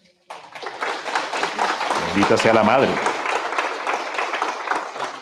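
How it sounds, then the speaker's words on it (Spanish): Congregation applause for the mother during a Lenten church talk, a broad wash of clapping rising after a brief pause and carrying through to the end, with a voice speaking over it. "Demos un aplauso a la madre, creo que se lo merece"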